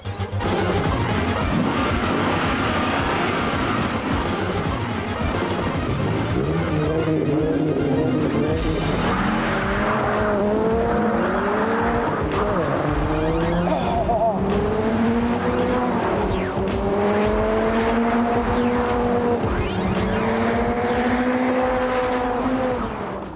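An 8-litre V10 Chrysler Viper races hard, its engine note rising and falling through repeated gear changes with tires squealing, loud and close throughout.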